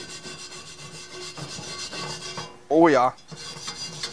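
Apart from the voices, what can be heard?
scrubbing rust off a cast iron Dutch oven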